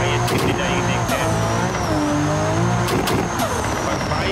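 A Toyota Supra in the BeamNG driving game, pushing past 100 at high speed, its engine droning loud and steady with shifting revving tones and a faint high whine, while a voice talks over it.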